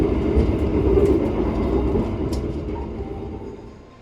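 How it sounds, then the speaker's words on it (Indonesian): An Indonesian Wijayakusuma executive-class passenger train rumbles along the rails, heard from inside the carriage as a steady low roar with faint clicks that slowly fades toward the end. "Perjalanan kereta Wijaya Kusuma saat ini sudah tiba di stasiun Jember ya"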